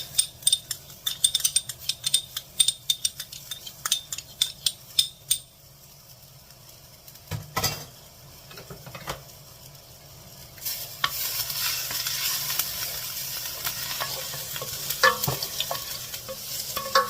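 Garlic hits a hot pan for linguine frutti di mare with a sharp sizzle and a spoon clinking and stirring at first, then a quiet pause before a louder, sustained frying hiss builds and holds to the end.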